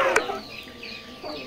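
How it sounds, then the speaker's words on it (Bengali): Layer hens on a poultry farm let out soft, faint clucks and a brief squawk against a low background hum. "লেয়ার মুরগি রয়েছে"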